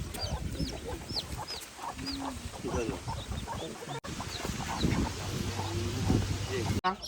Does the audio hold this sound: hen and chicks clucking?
yes